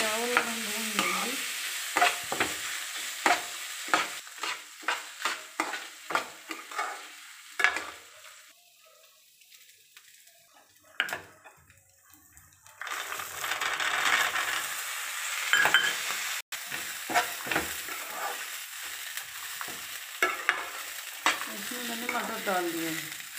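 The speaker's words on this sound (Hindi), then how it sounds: "हम इसमें चावल डाल देंगे, चावल हम भून लेंगे," Rice is stirred and roasted with spices in a pan, with repeated scraping strokes and a frying crackle that pause briefly midway, then resume close and fairly loud.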